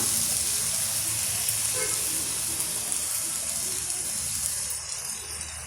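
Drained banana root pieces sizzle in oil that has separated from the cooked masala, a loud, steady broadband hiss that eases slightly toward the end.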